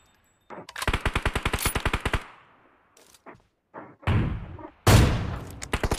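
Squad shooter gameplay with a rapid burst of automatic gunfire, about a dozen evenly spaced shots, then a pause, a few scattered thuds, and two heavier close blasts near the end.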